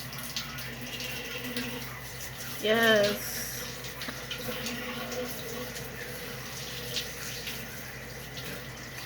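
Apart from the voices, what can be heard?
warm water poured into a jar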